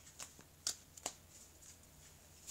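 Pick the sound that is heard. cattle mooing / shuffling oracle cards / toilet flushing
shuffling oracle cards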